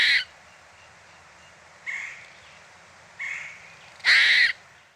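Harsh, raspy alarm calls from a gray squirrel, four separate bursts spaced apart, the last one loudest and longest, against a quiet outdoor background.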